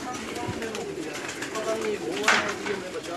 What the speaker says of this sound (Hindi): एक जरा चौधरी साहब वाला कबूतर तो ले आइएगा